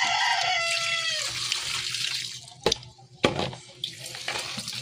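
Running water splashes from a tap, then intermittent spurts and splashes as a motorcycle helmet pad is rinsed; a rooster crows near the start.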